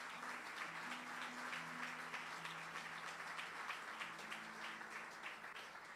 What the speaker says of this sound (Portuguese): Dê uma grande salva de palmas a Jesus.